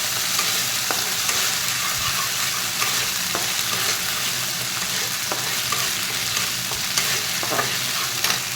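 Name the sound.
stirring ginger paste frying in a pan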